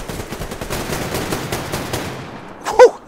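Weapon fire in the shooter game Survarium: a rapid stream of loud gunshots fired close in quick succession and fading toward the end, capped by one brief sharper sound, with no voices.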